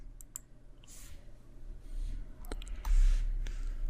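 A computer mouse clicking a Next button during a software setup: a few sharp, light clicks scattered over a quiet background hum, close and crisp, with no speech.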